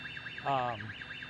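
A LIFT HERO CPD30 electric forklift's startup warning alarm warbles, cycling up and down in pitch, while a brief voice-like honk sounds partway through.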